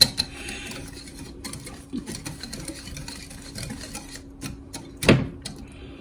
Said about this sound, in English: I'm just gonna whisk all of these together here best I can.